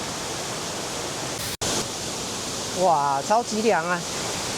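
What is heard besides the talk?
waterfall swollen by rain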